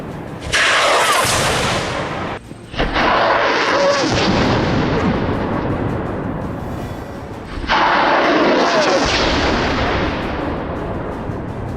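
Rockets fired from launchers hidden in greenery: two loud whooshing roars a few seconds apart, each trailing off into a long rushing tail.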